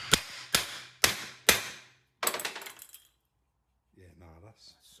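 A hammer striking an engine bearing casing during reassembly of a 2017 Berlingo engine, four sharp metallic blows in a row followed by a rattling burst, then brief speech.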